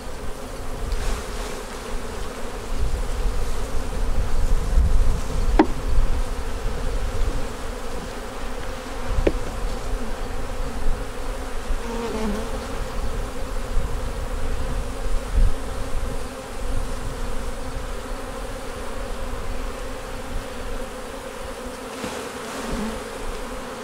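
Honeybees hum steadily around an open beehive worked without smoke, a dense continuous buzz close by with a few individual bees droning past the listener.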